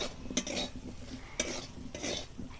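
Spices stirred into frying okra and potato curry in a pan, with a soft, steady sizzle and three or four sharper scrapes of a utensil against the metal, heard up close without talk.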